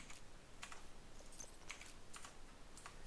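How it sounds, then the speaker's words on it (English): Scattered clicks of a computer keyboard and mouse as a boy plays on his computer in the background, faint and irregular with short bursts of taps spread across the moment, no talking. "If you hear clicking in the background, that's my son playing on his computer"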